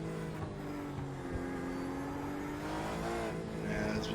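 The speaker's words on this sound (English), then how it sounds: "Little cockpit view from Sean Williams. Porsche 911 RSR." Cockpit engine note of a Porsche 911 RSR GTE race car at Silverstone, a steady loud drone with gear-linked pitch sweeps rising and falling, faint tire noise underneath.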